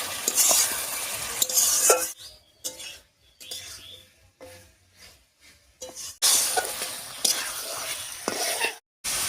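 Spice paste with water is sautéed in a pan for a Bengali fish curry: a ladle scrapes and clinks over a soft sizzle, busy at first, then quieter intermittent strokes before the stirring picks up again.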